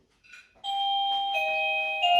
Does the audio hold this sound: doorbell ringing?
yes